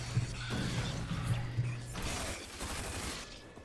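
Gunfire from a weapon in the video game Rage, heard as loud mechanical firing bursts and clanks layered over steady game ambience, fairly close, with no speech.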